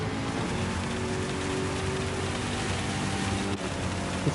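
Heavy rain hisses steadily at Suzuka circuit during a GTD race in wet conditions, a dense, even wash of noise with a faint tonal hum underneath and a brief dip near the end.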